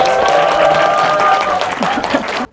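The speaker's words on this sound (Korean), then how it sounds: "큰 박수 부탁드리겠습니다." An audience at a seminar claps in a dense burst of applause under faint music and crowd murmur, the clapping thinning out over about two and a half seconds before stopping abruptly.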